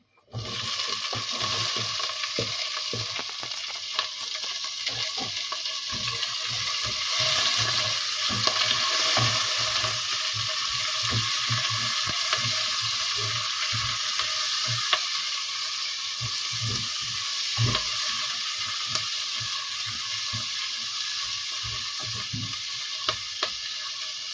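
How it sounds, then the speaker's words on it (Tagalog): Onions fry in a pan for ginisang monggo, a Filipino mung bean dish, with a continuous crackling sizzle and occasional stirring scrapes, close and steady throughout with no talk. "Lagay na po natin yung ating sibuyas"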